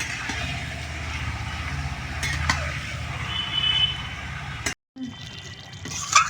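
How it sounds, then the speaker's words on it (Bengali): Chicken being stirred and sautéed into a Bengali chicken kosha in a pan: a steady, close sizzle with stirring and scraping that drops out briefly near the end, then resumes. "এবার চিকেনটাকে ভালো করে কষাবো আমি।"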